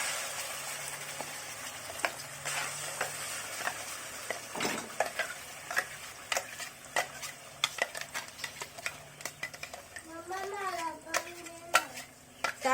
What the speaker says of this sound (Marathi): हा मसाला आपण आता चांगला तेलात भाजून घेऊया